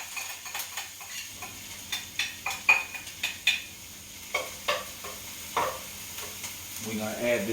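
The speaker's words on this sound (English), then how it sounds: "I've already chopped up my onions. We'll start sauteing that right now." Chopped onions sauteing in a pan, with stirring scrapes and clicks recurring every half second or so over a soft sizzle, close by and moderately loud.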